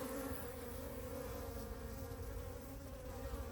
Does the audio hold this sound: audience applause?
no